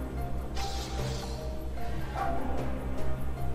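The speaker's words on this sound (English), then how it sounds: "Dog." A dog barks in a Metroid Prime 2 Echoes game scene, short yips standing out over a steady low rumbling ambience.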